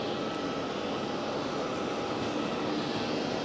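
Airliner noise at Geneva Airport from an EasyJet aircraft bound for Bari, a steady, fairly loud broadband engine roar that holds evenly throughout with no talk.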